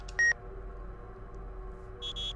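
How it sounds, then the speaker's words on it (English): Beeps from the Galerians video game: one short, loud electronic tone, then two quicker beeps near the end over a quiet hum. "Beep beep."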